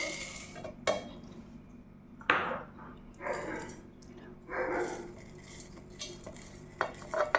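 Soy wax flakes and beeswax poured into a metal pot for candle making, giving a scattered clatter and rattle of flakes against metal in several short bursts, close by in a quiet room.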